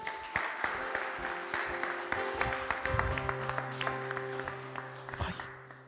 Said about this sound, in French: Est-ce qu'on peut acclamer pour les chants?